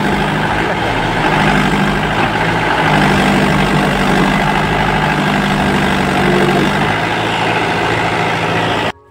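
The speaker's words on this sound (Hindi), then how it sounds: "ट्रैक्टर को एक बार फिर जोर लगाया जा रहा है।" A tractor engine revs hard and labours steadily under heavy load while trying to pull a trolley stuck in the ground, a loud, close, continuous drone that cuts off abruptly at the end.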